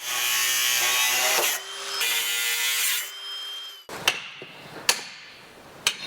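A power tool whines loudly as it cuts through a brake disc, running in two long grinding bursts, then gives way to several sharp metallic knocks and clanks spaced a second or so apart.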